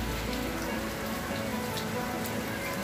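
Steady rain falling outdoors on orchids, including a young dendrobium mounted on a log, a dense continuous patter of drops close by with no talk.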